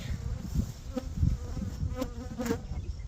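A swarm of honeybees caught in a wooden catch box holding five frames hums with a dense, continuous buzz. Individual bees whine past at close range over the low drone.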